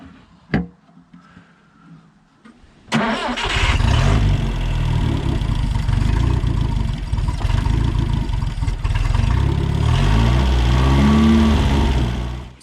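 A 1967 Toyota Corona RT40 engine is started in very cold weather: a few faint clicks, then it fires and keeps running loudly close by, rough and uneven, with revs rising and falling.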